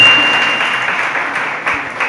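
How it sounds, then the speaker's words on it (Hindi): Audience clapping during a Jain religious discourse, a short fading wash of applause, fairly loud and brief, with a faint voice mixed in. "आप तो कहते हैं ताली तो बजाओ"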